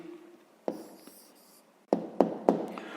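Pen or pencil writing out an answer to a fifth-grade math exercise: a few short scratchy strokes and sharp taps on paper, close and isolated, with quiet pauses between.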